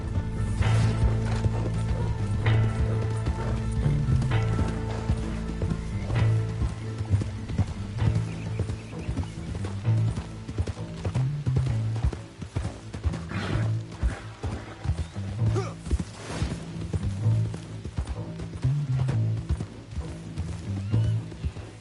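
Horse hooves clip-clop steadily in a PS4 video game, a close, rhythmic trot with mechanical clicking and ratcheting sounds mixed in, and an occasional whinny.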